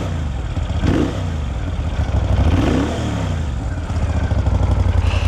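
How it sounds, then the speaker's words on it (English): A 2004 Moto Guzzi V11 Coppa Italia V-twin is revved twice from a rumbling idle, each blip swelling loud and close before settling back, with a steady throbbing idle between and after. "you give it a little gas and the whole bike wants to shake"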